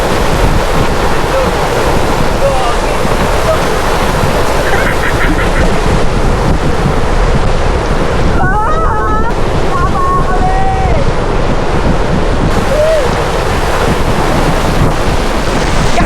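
Heavy rain and strong wind roar continuously at a campsite during a storm, loud and dense, with wind buffeting the microphone and faint voices briefly rising in the middle.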